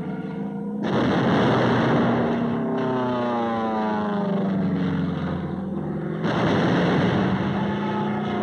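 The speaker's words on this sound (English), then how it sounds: "supporting ships deliver point-blank fire" Naval gunfire from supporting ships pounds Iwo Jima in World War II combat footage: a loud, sustained roar with descending whistling tones and heavy rumble, continuing throughout with no talk.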